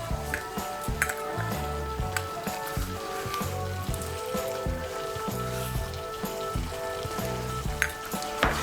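Spice paste with chilli powder and salt frying in hot oil for a cauliflower korma, giving a steady close sizzle with occasional spatula scrapes and stirring knocks throughout.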